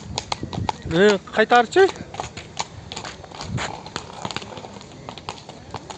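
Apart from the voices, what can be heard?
horse walking, hooves clip-clopping at a horse market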